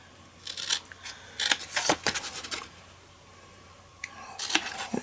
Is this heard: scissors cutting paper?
yes